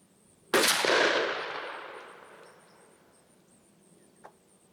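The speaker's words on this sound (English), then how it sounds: "let's head over here and take the shot and see what kind of pattern they give us" A single loud 20 gauge shotgun blast, a Winchester Double X 3-inch load of #4 shot fired from a Stevens 301, cracks sharply outdoors and rolls off in a long fading echo, followed by a faint distant click.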